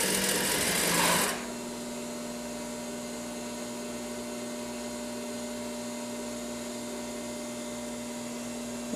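A sewing machine stitches the front and back pieces of a plus-size bespoke woman's bodice, opening with a brief louder burst before settling into a steady, continuous mechanical hum with faint rhythmic ticking.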